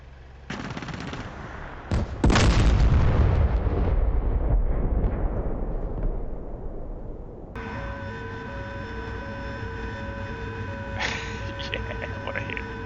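AV-8B Harrier close air support video game, where a missile hit sets off a sudden heavy explosion with rapid gunfire bursts, its roar fading into a steady cockpit tone and beeping lock warnings.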